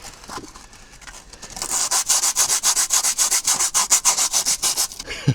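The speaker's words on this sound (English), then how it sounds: "Now I've taken that top layer of rust off." Sanding rust off the body of an abandoned Mercedes W124: softer scraping at first, then a loud, steady run of rhythmic back-and-forth strokes, close up with no talk.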